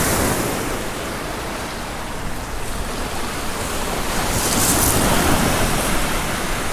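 Creek water runs beneath a road, a broad, steady rushing wash heard up close and loud, with a roughness like wind on the microphone.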